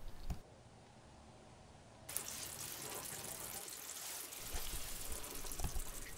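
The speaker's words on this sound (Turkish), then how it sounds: "Şayet pirinçleriniz piştiyse de suyunu tamamen süzün." Cooked rice drained of its water, a steady wet splashing and trickling that swells after a quiet opening couple of seconds and keeps pouring to the end.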